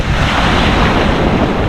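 Sea waves washing onto a beach at Dasol, Pangasinan on an overcast rainy-season day, a loud continuous roar of surf mixed with heavy wind buffeting the microphone.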